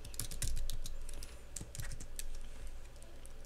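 Fast, uneven clicking of keys on a computer keyboard as HTML code is typed, close and steady throughout with no one speaking.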